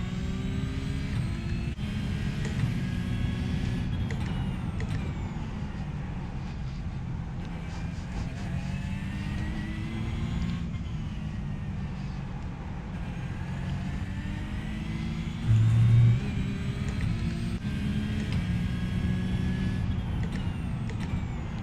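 Race car engine in a sim racing video game, a steady loud drone with rising and falling pitch sweeps as it revs through the gears, continuous for about twenty seconds.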